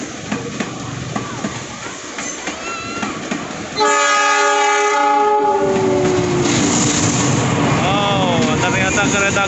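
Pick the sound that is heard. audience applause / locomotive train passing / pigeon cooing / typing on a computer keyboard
locomotive train passing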